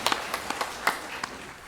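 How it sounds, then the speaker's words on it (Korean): Scattered claps from a congregation during a Sunday church service in Daegu, a handful of sharp, separate hand claps spread out at uneven intervals, moderately close, with no talking over them. "박수를 하나님께 드리겠습니다"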